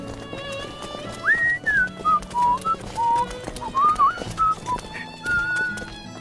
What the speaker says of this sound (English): Stop that whistling immediately!